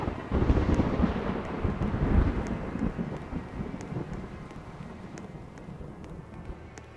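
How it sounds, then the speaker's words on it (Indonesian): Rain pours down in the Roblox video game, a dense, steady hiss heaviest over the first few seconds and then easing to a softer wash, with low rumbling underneath and no talking. "Sampailah hujan ni berhenti."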